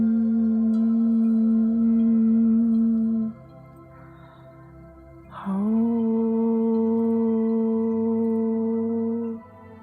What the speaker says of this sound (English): Just hum for me.